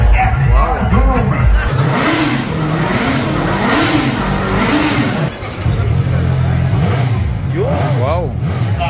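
A CFMOTO 500SR inline-four 500cc sports motorcycle engine revs repeatedly, rising and falling in loud close bursts, with crowd noise and voices around it at a launch event.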